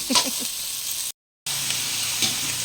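Mixed vegetables sauté with meat and onion in a pan, giving a steady, even sizzle that is cut by a brief silent gap, with a few faint voice fragments near the start.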